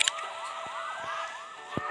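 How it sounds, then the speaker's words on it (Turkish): A video game ambulance siren wails, sweeping up and down in repeated cycles, fairly close and steady, with a few soft thumps and clicks around it. "Açın yolu ambulans geliyor."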